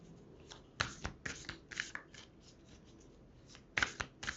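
A deck of cards being shuffled and drawn during a card reading: soft riffling rustles, then a few sharp, close snaps and slaps of cards in short bursts, with quiet pauses between.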